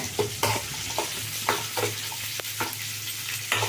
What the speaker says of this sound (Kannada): ಈರುಳ್ಳಿ ಫ್ರೈ ಆಗಲಿ ಸ್ವಲ್ಪ